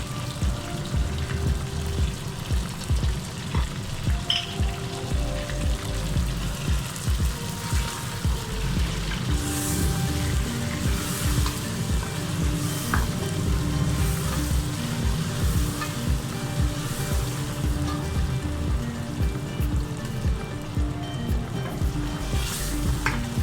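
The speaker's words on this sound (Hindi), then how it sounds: "तकरीबन 2 मिनट तक इसको भूनिएगा ताकि लहसुन अदरक का जो कच्चापन है वो ख़त्म हो जाए।" Garlic and ginger sizzle and fry in hot oil with meat for aloo gosht, a steady close crackling hiss with occasional stirring scrapes, continuous throughout.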